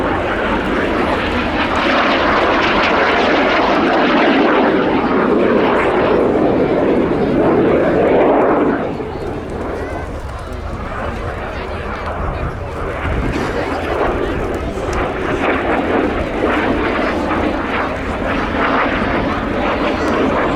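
A Catalina flying boat passes at an airshow, its piston engines and propellers droning loud and steady, strongest in the first half before easing slightly, with a voice talking over it at times.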